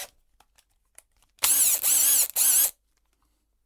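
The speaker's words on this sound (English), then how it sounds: "Even bigger than that is the combi drill." A battery combi drill whirs in two close, loud bursts, the first longer and the second brief, separated by a short gap with near silence before and after.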